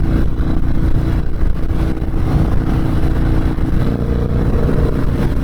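A Harley-Davidson Dyna Low Rider S engine drones loudly and continuously while riding, with a rough low rumble and slight shifts in pitch.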